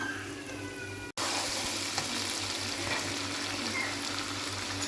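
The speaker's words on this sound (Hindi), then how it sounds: "अब मैं चिकन को निकाल के कढ़ाई के अंदर डालूँगी" Chicken drops into a hot kadhai for yakhni pulao, and after a brief gap a loud, steady sizzle starts and keeps going close up with no speech.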